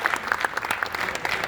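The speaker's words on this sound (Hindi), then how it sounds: "जोरदार तालियों से एक बार उनकी सम्मान करते हैं।" Audience at a Rajasthani community poetry event in Navi Mumbai applauding in honour of Dr. Sanjeev Naik, a dense, continuous burst of many hands clapping loudly.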